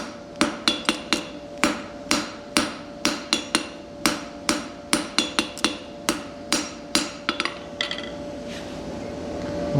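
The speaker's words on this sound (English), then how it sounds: "I continue to draw out my Pritchel. Trying to forge as even as possible" Steady hammer blows ring out on hot metal while a blacksmith forges and draws out a thin pritchel into an even taper, the sharp strikes coming in quick bursts with short pauses over a constant low hum.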